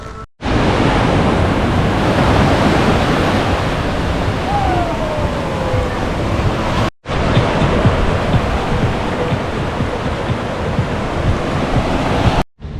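Ocean surf at a relaxed beach where people are learning to surf, heard as a steady, loud wash of breaking waves with wind noise across the mic, one brief cut partway through.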